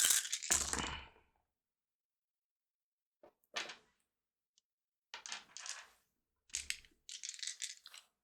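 Dice rattle and clatter across a table during a Warhammer tabletop game, in several separate short bursts with silent gaps between them, close and clear with no talk.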